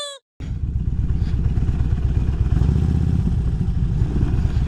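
A motorcycle engine runs close by after a brief cut-off at the start, with a steady, rapid, loud mechanical chug and clatter that holds through the rest as gears are shifted.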